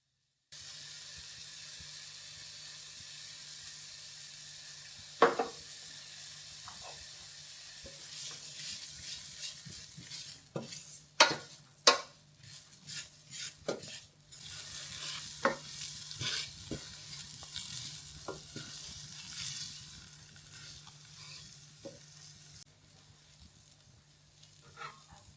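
Onion frying in a pan with smoked paprika and garlic pepper for a vegetable coconut curry: a steady low sizzle under a hum, with scattered sharp utensil clinks and scrapes, a louder burst of hissing midway, fading toward the end.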